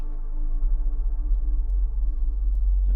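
A pure, very low synthesizer sine wave hums steadily with faint harmonics, loud and sustained without pause.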